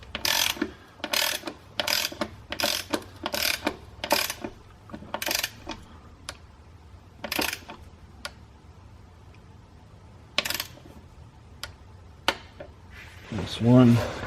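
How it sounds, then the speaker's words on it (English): A torque wrench tightening transmission pan bolts on a BMW E70 X5, giving quick bursts of crisp ratcheting clicks close by, several in a row, then scattered single clicks, with someone talking at times. "So I have my torque wrench set to that."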